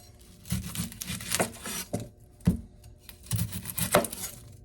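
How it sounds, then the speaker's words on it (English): A knife chops vegetables on a board for a two-gallon batch of fire cider, giving a series of irregular, close, crisp thuds and cuts with short pauses between strokes. "So we're just going to chop this up."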